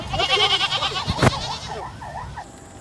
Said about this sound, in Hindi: ये मेरा बकरा है